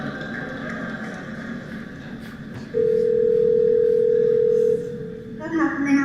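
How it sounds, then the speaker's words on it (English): A telephone line tone as Google Assistant places a call to a real hair salon to book an appointment, a single steady tone lasting about two seconds over faint background noise. "what you're going to hear is the Google Assistant actually calling a real salon"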